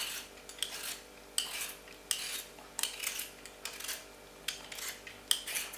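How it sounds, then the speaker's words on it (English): Potatoes being peeled by hand, a series of quiet, close rasping scrapes repeating every second or so with faint metallic touches, alone and without talk. "Peel the potatoes."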